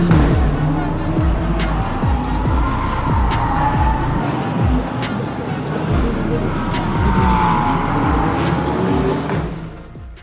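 An Audi R8 LMS GT4 race car entered in the French FFSA GT4 championship drives hard around a circuit, its engine roaring steadily with rapid gear changes and tire squeal, heard close and loud throughout, with a voice speaking over it.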